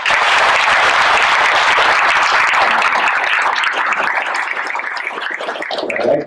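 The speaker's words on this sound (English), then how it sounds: "So a big round of applause from" Loud, sustained audience applause filling a hall at a school district's State of Schools event, dense clapping from a large crowd that holds steady for several seconds and then tapers slightly toward the end.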